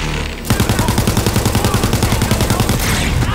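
A gun fires in the game Borderlands 3, a fast, steady stream of loud, close shots after a short lead-in, continuing for about three seconds.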